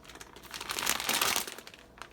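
Crinkly plastic packaging of Kroger Cheddar Jack cheese being pulled and torn open, a soft rustling crackle that swells in the middle and then fades, close by and fairly quiet.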